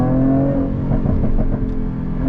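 A Jaguar F-Type P380 R-Dynamic with its V6 engine revs up close, loud, with a deep harmonic growl rising and pulsing through a few throttle blips before settling, no talking.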